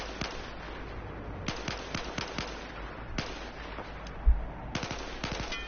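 M4 rifle fired in burst mode in Battlefield 4, sharp gunshots in quick clusters with short pauses between bursts, crisp and fairly close with no talking.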